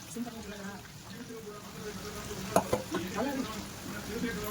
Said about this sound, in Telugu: ఈ ఉల్లిపాయ అనేది నేను ఫ్రై చేసుకుంటాను, బాగా క్రిస్పీగా రావాలి.